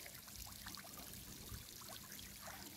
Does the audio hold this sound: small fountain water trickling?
yes